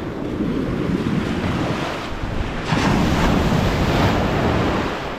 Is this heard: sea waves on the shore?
yes